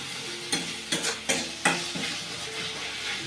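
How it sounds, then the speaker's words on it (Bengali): Chicken curry tomato masala stirred in a pan, four distinct scraping strokes in the first two seconds over a continuous sizzle, near and moderately quiet, no voices. "জল ছেড়ে দিয়েছে, একটু নাড়িয়ে নেব"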